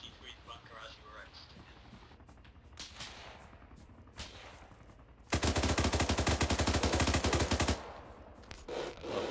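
Sustained machine gun fire in the ArmA 3 video game, a loud rapid burst of about two and a half seconds standing out abruptly from quieter rustling and scraping, with a few distant shots around it.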